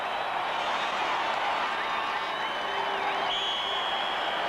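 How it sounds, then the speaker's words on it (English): A large football stadium crowd at a 1982 NFL playoff game between the Packers and Cowboys, giving off a steady, loud, broad roar that swells slightly, with a distant whistle-like tone near the end. "The crowd will let you know how they feel about it."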